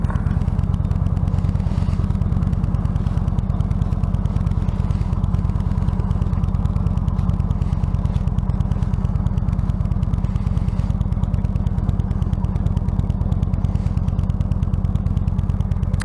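A motorcycle ride heard from the rider's position: a continuous, loud engine drone with a rapid pulsing beat, steady throughout with no voices.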